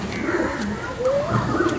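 A female pigeon coos in a short, soft, throaty call, with another faint coo following, set against light background noise.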